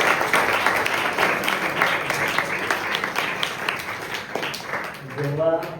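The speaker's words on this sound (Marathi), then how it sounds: "आपण सगळेजण जोरदार टाळ्या वाजवून या दोघांचं स्वागत करूया" Audience at a college gathering applauding to welcome two guests: a dense, steady wash of clapping that holds for several seconds at even loudness before a voice starts speaking over its tail.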